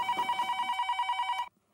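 A telephone rings with one close, bright, rapidly warbling electronic ring burst, then cuts off.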